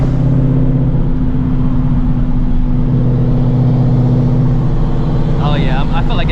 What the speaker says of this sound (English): I hear that race valve. That shit sounds crazy.